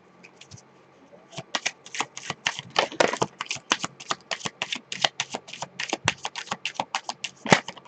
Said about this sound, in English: I did pre-shuffle this, but just give it another couple of shuffles